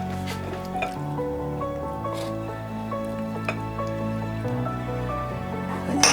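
Royal court tteokbokki, made with rice cake slices and vegetables in a thick sweet glaze, is scooped onto a plate, giving soft wet squishes and drips with faint clinks over steady background music.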